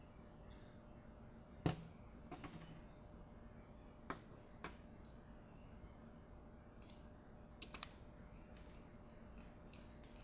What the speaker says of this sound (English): Remove the 2 screws holding on the tripod mount and the cover plate.